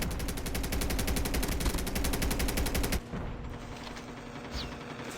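Rapid automatic gunfire in a COD Mobile battle royale match, loud and continuous for about three seconds, then cutting to quieter game ambience with faint distant shots.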